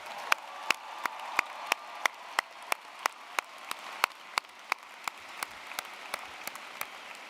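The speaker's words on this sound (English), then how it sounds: "Can we give our staff a round of applause?" Crowd applause at a University of Illinois Chicago liberal arts spring commencement fills a big space faintly, while a single close clapper punches through with crisp, evenly spaced claps roughly three per second.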